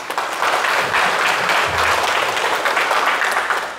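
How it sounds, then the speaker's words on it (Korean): Audience at a Sunday lecture breaking into steady, dense applause that fills the room for several seconds, loud and continuous without any speech over it. "박수 한번 치세요."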